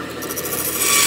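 A Porter-Cable 13.625-inch bandsaw with a carbide chip blade cuts steadily through material, a loud, close, continuous rasping whir that swells slightly toward the end.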